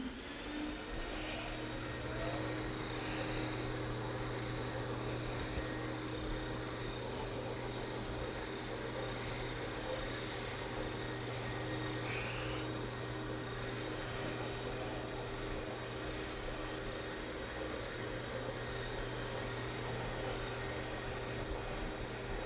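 A floor polishing machine runs a yellow Phoenix pad over a polishable self-leveling concrete overlay, giving a continuous, even motor drone with a low steady hum and hiss that holds unchanged throughout, close and loud.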